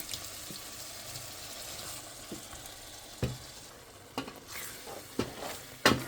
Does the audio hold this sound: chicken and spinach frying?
yes